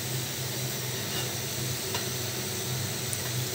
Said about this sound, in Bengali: এইভাবে আমি বড়াগুলো ভেজে নিব লাল লাল করে।